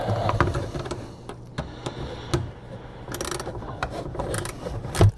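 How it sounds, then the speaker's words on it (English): Ratchet clicking as air dam bolts are tightened on a 2018 Chevrolet Colorado, bursts of short metallic ticks with a few sharper clacks, close up and fairly steady, no talking. "I need the ratchet"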